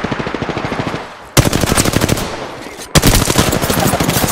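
Rapid automatic gunfire in Apex Legends sounds in three close, loud bursts of evenly spaced shots with short gaps between them. No voices are heard.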